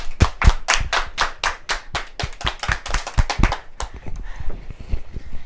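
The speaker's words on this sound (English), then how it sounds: "I'll give these kids a round of applause." Schoolchildren giving a round of applause, loud close claps that begin as sharp, fairly regular strokes and then loosen into scattered, overlapping clapping.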